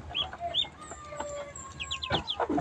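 Domestic ducks and newly hatched ducklings call nearby with a rapid scatter of high, thin peeps and short chirps, with no talk.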